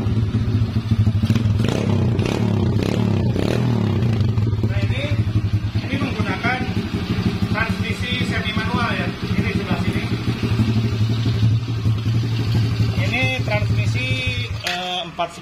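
A mini motorcycle engine, likely an RXF 50 or MXgp 25 dirt bike, starts with the electric starter and runs, its loud steady hum and rising rev bursts continuing throughout beneath someone talking.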